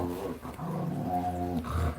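An 11-year-old red heeler named Rex gives a low, continuous growl with harmonic whining tones, close and steady for about two seconds, with no speech over it.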